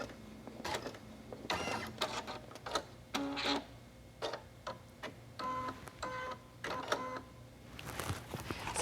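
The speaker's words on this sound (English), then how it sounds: "it's just putting a simple line of stitching in our stabilizer" Embroidery machine stitching a simple line into stabilizer in a hoop, a close mechanical whirring and tapping in short irregular bursts with pauses between runs.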